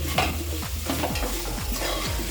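Egg biryani masala stirred in a pressure cooker, a spoon scraping the pot in a steady repeating rhythm of about five strokes over a continuous sizzle, close and clear with no talk.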